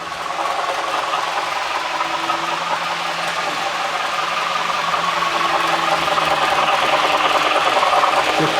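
An MTH or BLI model train locomotive runs past a speed trap, giving a steady mechanical whir and rumble with faint rail clatter that holds at an even level and swells slightly toward the end, with no voices.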